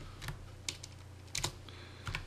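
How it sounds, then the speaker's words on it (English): Keys clatter on a computer keyboard in a few short, quiet bursts with brief pauses between them, close by and heard alone. "if I can type."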